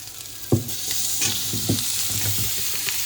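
Chopped, deseeded tomatoes fry in a pan over low gas, a continuous close sizzle punctuated by a few thumps and scrapes as they are stirred.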